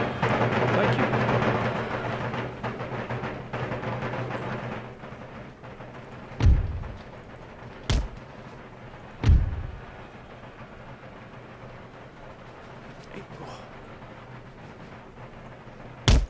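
Cannon and musket fire in Empire Total War, a few separate heavy booms spaced a second or so apart over a steady battlefield rumble, with a quieter stretch afterward.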